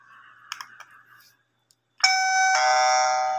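A few light button clicks and taps precede a mini Wi-Fi doorbell chime that rings out loud and clear in two bright electronic tones, the second note sustaining and fading slowly.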